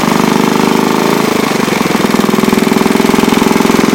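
Antique Briggs engine running with the choke on, a loud, close, rapid chugging with a steady pulsing beat that wavers briefly before settling back into rhythm.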